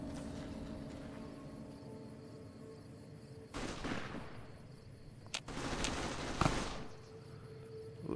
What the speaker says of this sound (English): it sounds like they're in a firefight as is